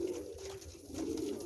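Pigeons coo softly and continuously in a short stretch, a low steady murmur with no talk over it.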